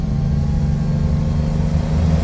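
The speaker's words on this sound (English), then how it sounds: "now we can hear the engine a little bit louder" A car engine in a driving simulator game drones at a steady hum with a low rumbling tone, loud and even throughout, with no talk over it.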